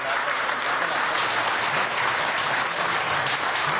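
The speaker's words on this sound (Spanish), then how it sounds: "Primer anuncio. Aplauso." Steady, dense applause from a large audience at an official government event in Venezuela fills the whole stretch at an even level with no talk over it.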